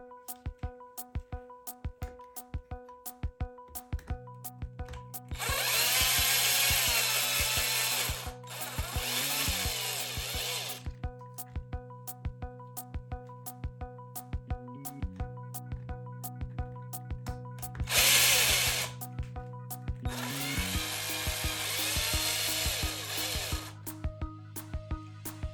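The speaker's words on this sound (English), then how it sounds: "start taking off these screws and just seeing what the minimum number of screws I need to take out are" A power driver backs screws out of a Team Corally Dementor RC car in several bursts of whirring spin with rising pitch, separated by quiet pauses and small ticks, close by and with no talk.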